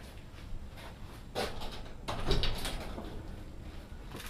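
The back door of a workshop shed opens, giving a few faint, quiet knocks and a short sliding scrape with low background hiss.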